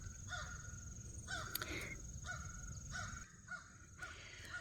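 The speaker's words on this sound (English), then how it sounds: "You can hear the crows." Crows caw repeatedly at a distance in a rural property setting, with harsh calls spaced about a second apart over a soft outdoor background hiss.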